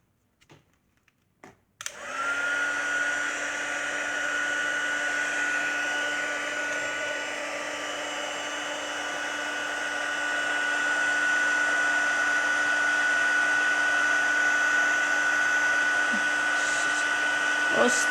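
A heat tool melting embossing powder clicks on and blows with a steady, loud whirring hiss that holds for about sixteen seconds, close and unbroken, with a faint whine running through it.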